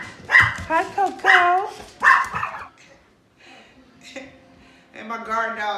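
An indoor guard dog barks three times, loud and close, in quick succession. People then talk quietly in the room.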